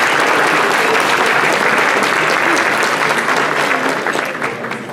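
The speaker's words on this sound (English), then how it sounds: "give a round of applause for our harpist" Sustained, loud audience applause for a harpist at an installation of officers and awards ceremony, a dense wash of many hands clapping that fades slightly toward the end.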